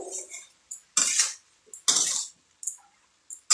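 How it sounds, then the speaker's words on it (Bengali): A metal spoon stirs spiced winter vegetables in a pan, giving a few separate scraping and clinking strokes against the metal with short quiet gaps between them. "এবার বেশ কয়েকটা কাঁচা লঙ্কা এর মধ্যে দিয়ে আমি ভালো করে মশলাগুলোকে মিশিয়ে আবারও ঢাকা দিয়ে দিব"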